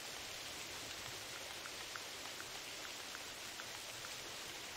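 Steady rain falling across a mountain landscape in the hunting game theHunter Classic, a continuous even hiss with faint scattered drop ticks, alone with no voices.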